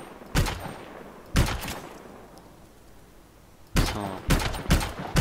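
Sniper rifle fire in the video game Anthem: two sharp, loud broadband shots, a pause, then a rapid cluster of three or four more reports, each with a short echoing decay.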